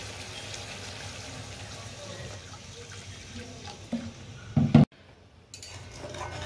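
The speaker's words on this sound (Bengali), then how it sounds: "ঝোলটা দিয়ে দিই।" Fish curry broth poured into a hot pan while cooking, a soft liquid splash and sizzle with a brief louder clatter near the end, faint and close.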